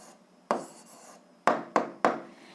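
Pen strokes on paper while a Ukrainian algebra exercise answer is written by hand: four short scratchy bursts, close and quiet, with faint pauses between them and no talking.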